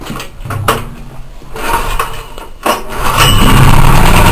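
A small Chinese clone engine on a generator being started: loud pull-start bursts and sputtering attempts, then the engine catches and settles into a steady, rising mechanical drone close by.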